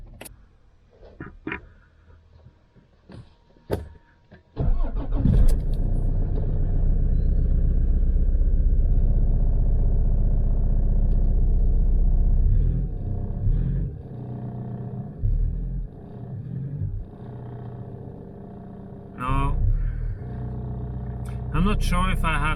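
A Toyota Land Cruiser Prado 120 / GX470 engine with a new MAP sensor and code P0045 cranks with a few short bursts, then catches and rumbles steadily and loudly before roughness and revving toward the end.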